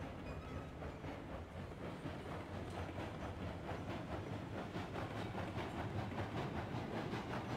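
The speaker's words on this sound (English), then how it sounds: "There goes the train backwards." A train rolling backwards in the railroad video game Railroads Online gives a steady, fairly quiet rumbling clatter with faint rhythmic clicking from the wheels, continuous throughout.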